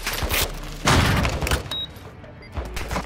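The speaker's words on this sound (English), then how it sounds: "Grenade out." A grenade goes off in Call of Duty, a loud broadband blast that booms for about a second amid surrounding gunfire and rumble before the noise trails off into quieter ambience.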